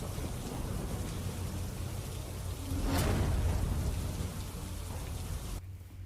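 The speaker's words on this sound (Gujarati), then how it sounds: "અમરોલી વિસ્તારમાં પણ વરસાદ છે।" Steady rain pours down in an area of Amroli with water flooding the roads, a constant hiss of falling drops broken by a swelling rumble of thunder midway, with no voices.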